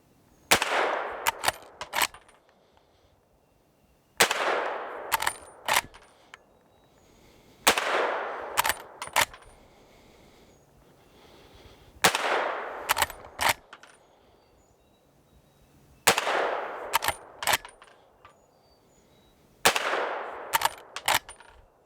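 Henry Big Boy lever-action rifle chambered in .38 Special fired at a slow, deliberate pace: six sharp, loud shots spaced about four seconds apart, each followed by quick echoing clatter and the lever cycling.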